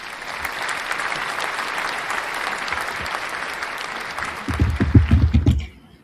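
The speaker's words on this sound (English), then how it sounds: "So yeah, round of applause for Samia." Audience applause at an African women in games forum, steady clapping from a crowd that swells louder near the end before cutting off abruptly.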